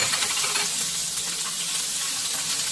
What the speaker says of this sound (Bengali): এখন দেখেন পেঁয়াজটা আমি তেলে দিয়ে দিচ্ছি।